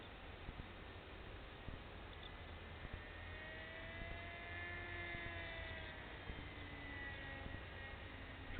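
A small Mako RC model plane drones overhead, its electric motor a thin, steady whine that rises and falls in pitch as it passes, faint against a constant background hum.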